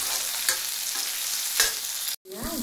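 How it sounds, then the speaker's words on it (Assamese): Potatoes fry in a pan with a steady, bright sizzle, interrupted by a few scraping stirs; the sizzle cuts out briefly near the end, then resumes with squeaky utensil scrapes nearby. "এতিয়া আলুখিনি ভাজি ল'ম"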